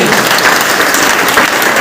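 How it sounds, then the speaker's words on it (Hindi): Loud, dense applause from a crowd at a large business meeting in Basti, India, steady and close for the whole short stretch. "दातु डॉक्टर की जबरदस्त ताली होना चाहिए"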